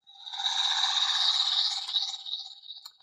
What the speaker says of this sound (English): That's the sound of when a blank card turns into a Kamen Rider card.